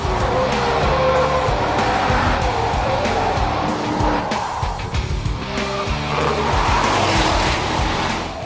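A car accelerating flat out on Dunlop Quattromaxx tires, a loud, continuous engine roar with a hint of tire squeal, building and holding steady throughout.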